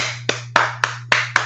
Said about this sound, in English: That's more than a golf clap, sir.